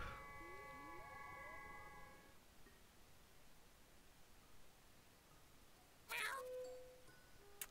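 A cat meows in a video game, one drawn-out meow at the start and another sharper meow later, both standing out over a faint, hissy background.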